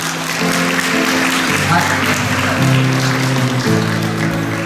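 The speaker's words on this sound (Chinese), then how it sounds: "热烈掌声！" Warm applause in a church hall during an anniversary thanksgiving dinner, continuous clapping from a crowd beneath a voice over a speaker and steady background music.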